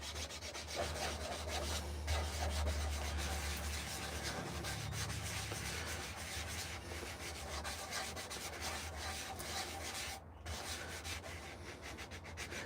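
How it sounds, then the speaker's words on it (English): A wooden coffee scoop being sanded by hand with a sanding block in a workshop, a steady close rasping scrub that runs continuously, with one brief pause near the end and no talking. "The more you sand it, the more the grain comes out. And these sanding blocks, they come in different grits."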